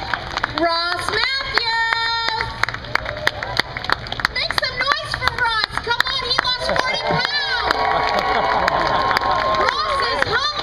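A crowd at an outdoor NYC Pride rally claps and cheers continuously while voices speak and call out over the noise.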